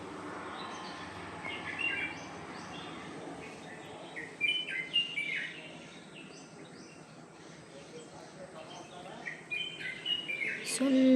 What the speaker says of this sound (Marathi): आवाज येतात पक्ष्यांचे?